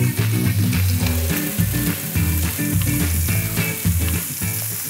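Beef burger patty frying in a hot pan, a loud steady sizzle with crackling spatter, close and continuous, no talking.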